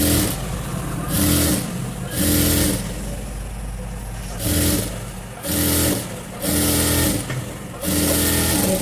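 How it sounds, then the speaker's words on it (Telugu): A sewing machine stitches piping onto fabric in loud, close bursts of steady whirring motor hum, starting and stopping several times with short pauses between runs. "ఈ రెండింటిని సమానంగా కలిపేటట్టు ఒక స్టిచ్ అనేది చేసుకోవాలి"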